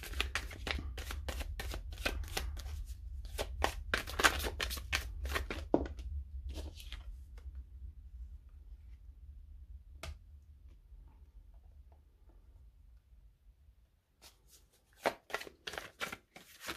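Dixit game cards are shuffled in quick, crisp riffling bursts through the first several seconds, then a long quiet stretch with a single snap, before a few more sharp card flicks close it out.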